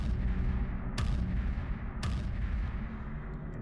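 Heavy military-booted footsteps land as two slow, deep thuds about a second apart, each booming over a low continuous rumble.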